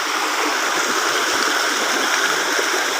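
Loud, close flowing stream, a dense steady rush of water with no pauses and no voices over it.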